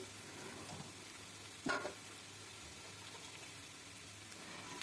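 Onions and garlic cloves sizzling in hot oil, a steady soft frying hiss with one brief louder stir or clatter partway through.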